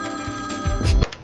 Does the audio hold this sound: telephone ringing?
yes